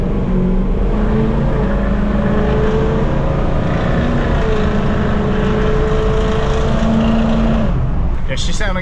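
A 2003 Ford F350 Super Duty diesel truck idles steadily nearby after a power steering pump repair, a loud continuous low rumble with a faint whine above it, cutting off abruptly near the end.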